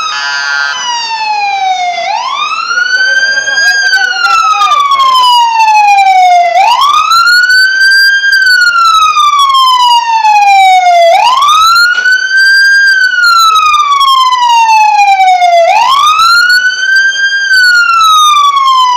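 A loud wailing fire truck siren sweeps up and down repeatedly in slow cycles, close and continuous, like an emergency vehicle passing nearby, at a warehouse fire in Baclaran.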